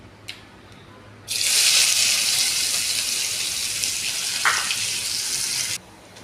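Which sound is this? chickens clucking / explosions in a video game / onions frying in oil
onions frying in oil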